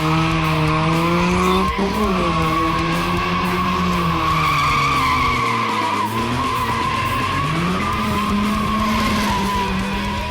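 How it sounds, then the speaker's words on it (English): A small Mazda RX-3 rotary drifting through a burnout display at an import car event, its engine screaming steadily under constant loud tire squeal, pitch swinging up and down as it slides, with crowd and track ambience behind. "He's drifting more than he's doing a burnout, but that's all good."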